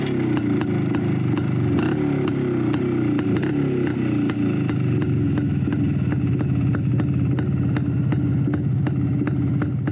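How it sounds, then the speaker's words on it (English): A motorbike engine idles steadily at close range as it is tuned up in a suburban home setting, a constant low rumble with regular sharp ticking clatter on top. "18-year-old Garrick Lawless tunes up his motorbike, a familiar weekend scene in almost any suburb in any city"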